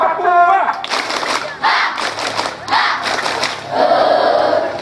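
Students at a madrasah orientation in Padang, Indonesia, performing the Tepuk Papua group chant: loud massed voices shouting in rhythmic bursts with clapping, repeated several times close by.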